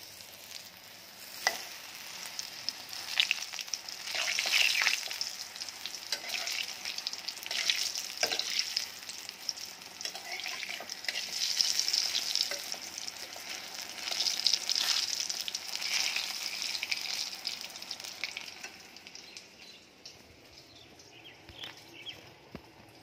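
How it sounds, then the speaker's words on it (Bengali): Eggplant slices fry in hot oil with a continuous crackling sizzle, swelling and easing over about twenty seconds with occasional utensil taps, fading near the end; no one talks. "বেগুনগুলো ভাজা হচ্ছে"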